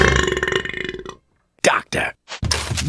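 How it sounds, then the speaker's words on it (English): Several loud, close burps from a cartoon character who has eaten apples, the first long and rumbling, then three short belches in quick succession after a brief silence. "I burp in the face of adversity."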